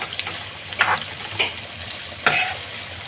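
Coriander and mint leaves frying in a pan, a soft steady sizzle broken by a few sharp stirring scrapes, close and moderately loud, no speech.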